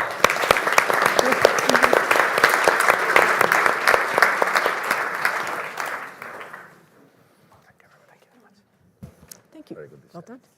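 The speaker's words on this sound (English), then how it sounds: "you deserve applause" Audience applause at a central banking forum, dense and loud for about six seconds, then fading to near silence, with a few brief sounds near the end.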